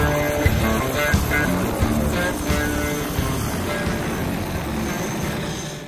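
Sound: twin-engine helicopter

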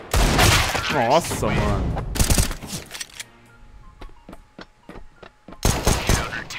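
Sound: gunfire in a shooting video game

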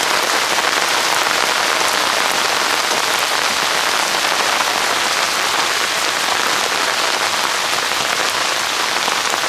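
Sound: heavy rain from Tropical Storm Lee remnants

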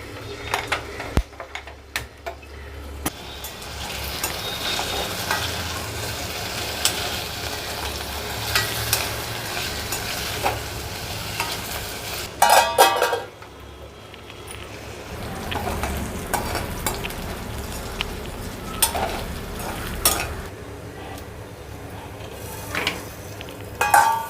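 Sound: cut potatoes frying and being stirred in a pan

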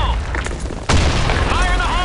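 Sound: grenade explosion in the video game BlackShot

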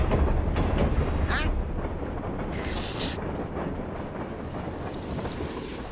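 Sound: train carriage rolling on rails

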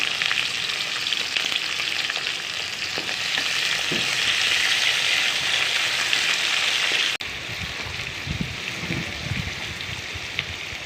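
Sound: onions frying in a pan

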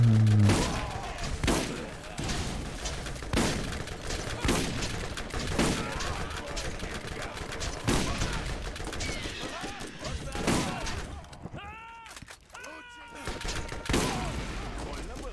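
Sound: shotgun gunfire in Borderlands video game

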